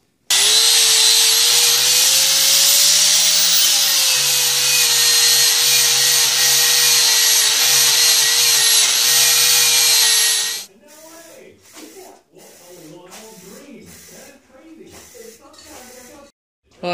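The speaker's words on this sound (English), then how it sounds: "I sure am glad about this drill press" A bench drill press runs loud and steady for about ten seconds, a continuous whine with a low motor hum, then cuts off into quieter clattering and handling noises of work at the press.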